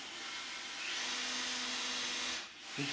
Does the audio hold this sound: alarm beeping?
no